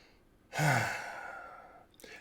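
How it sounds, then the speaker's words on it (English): A single deep breath during a calming relaxation exercise, a long soft exhale that fades gradually, followed by the start of another intake of breath, close and quiet. "take a deep breath, take a second deep breath, and a third deep breath"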